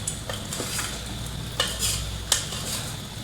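Garam masala being stirred into chicken curry in a pan, with soft sizzling and steady scraping, plus a few sharp clinks of a spoon against the pan.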